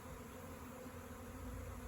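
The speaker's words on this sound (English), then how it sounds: "I hear what sounds like a mass of bees, a beehive, a" A swarm of honeybees near a garage makes a dense, steady buzzing hum that fills the air evenly, continuous and moderately loud with no pauses or voices.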